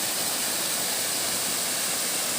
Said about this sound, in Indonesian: menemukan air terjun lur.